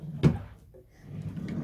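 A wooden drawer on a nursery dresser opens or shuts with one short, close thump followed by a faint slide and soft rattle, then quiet.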